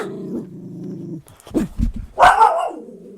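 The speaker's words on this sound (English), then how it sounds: "sorry if you hear a little bit of barking in the back." A dog in the background gives a low growl, then bursts into a few sharp barks, followed by a higher whimpering whine.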